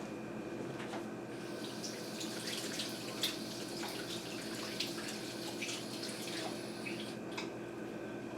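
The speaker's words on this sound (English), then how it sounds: "Go wash my hands off." Tap water runs steadily into a kitchen sink while hands are washed under it, a continuous close splashing wash with small irregular spatters and no talking.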